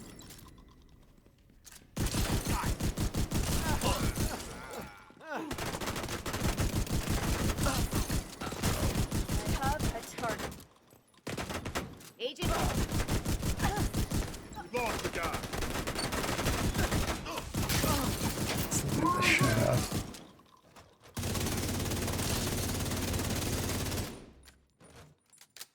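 Sustained bursts of rapid video-game gunfire, loud and close, come in long strings of shots separated by short silences as a player aims for headshots.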